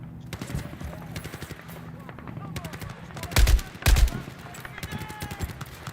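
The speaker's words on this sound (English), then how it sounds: "Getting shot from everywhere." Video game gunfire in rapid automatic bursts, several guns rattling at once and two heavier, louder blasts near the middle, with a voice speaking underneath at moments.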